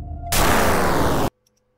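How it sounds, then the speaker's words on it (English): Sound effect of lightning zapping the color out of emeralds: a sudden loud crackling burst of broadband noise lasting about a second, then cutting off abruptly into near silence. "The lightning zapping the color out of the emeralds sounds like this."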